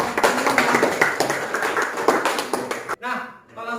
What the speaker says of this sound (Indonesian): Beri aplaus dulu kepada 3 orang tadi yang memberikan.